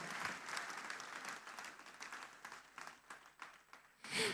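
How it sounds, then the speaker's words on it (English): Audience applause at a university graduation ceremony in Sri Lanka, a continuous wash of many hands clapping, faint and distant, thinning slightly toward the end before a brief louder burst. "let's give our graduates another round of applause for their hard work and determination in achieving this award today"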